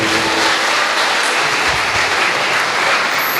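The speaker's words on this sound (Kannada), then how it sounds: "ಕೈ ಚಪ್ಪಾಳೆ ಕೊಟ್ಟವರಿಗೂ ಧನ್ಯವಾದ" Audience applause at a college alumni meet, a dense continuous patter of many hands clapping at once, loud and sustained for a few seconds without pause.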